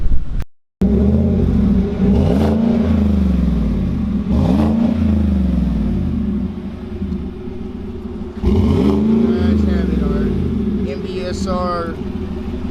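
A Chevrolet Silverado Hemi truck engine rumbles deeply through a new MBSR exhaust and revs up several times, the throaty roar swelling and falling over a steady idle.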